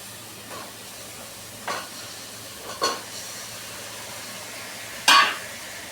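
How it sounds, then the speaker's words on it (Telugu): Chicken pieces drop into a hot pan of oil and turmeric for a chicken curry, giving four short, soft sizzling bursts spaced a second or so apart over a quiet kitchen background, the last one loudest. "పసుపు వేసి కలిపిన తర్వాత చికెన్ పీసులు వేసేద్దాం"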